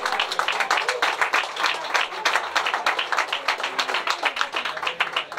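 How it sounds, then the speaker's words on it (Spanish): Audience applause at a strength-league weigh-in event, irregular, fairly close hand claps rising and falling in uneven bursts, without voices over them. "Un aplauso."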